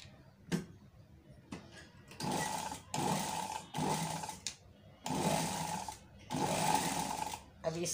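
A sewing machine stitches loops onto a frock neckline, running in several short, steady whirring bursts separated by brief pauses and small clicks, close and moderately loud.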